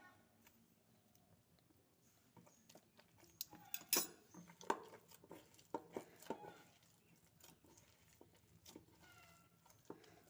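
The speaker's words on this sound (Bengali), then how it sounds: "হাত দিয়ে 2 থেকে 3 মিনিট ভালো করে মেখে নেব এরকমভাবে।" Bread dough being kneaded by hand after one spoon of white oil is added: soft, irregular squishing and slapping, faint and close, with scattered sharper clicks and thumps from the bowl.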